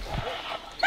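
Hunting hounds barking after a bear, a couple of short yelps and whines at a moderate distance, ending in a sharper louder bark, with a voice heard around them.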